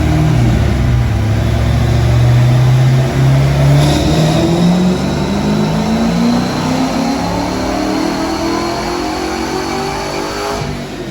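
The engine of a 1964 Mercury Comet revs hard during a dyno pull, rising steadily in pitch for about eleven seconds, loud and close, with no voices.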